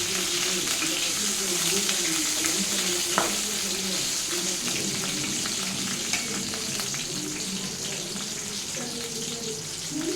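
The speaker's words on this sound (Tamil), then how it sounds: "பூண்டு நல்லா வதங்கணும்." A handful of garlic fries in sesame oil for a tamarind curry, producing a steady, close crackling sizzle throughout, with occasional stirring clinks over the continuous frying hiss.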